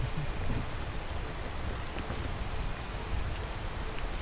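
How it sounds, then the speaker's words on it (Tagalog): Steady rain falling outdoors, a dense, even hiss of drops on surfaces with no pauses, loud and close, no voices. "Tagal ng ulan."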